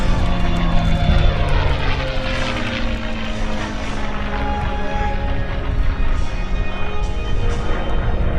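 P-51D Mustang propeller warbird making a tribute pass at the 2014 Rhode Island airshow at Quonset: a loud, droning piston-engine roar that swells and shifts in pitch as the plane sweeps past over about eight seconds.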